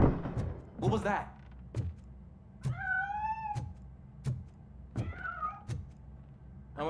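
A cat meows twice in the video game RoboCop Rogue City, with clear drawn-out cries set among sharp thuds and knocks.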